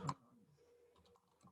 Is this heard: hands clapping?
no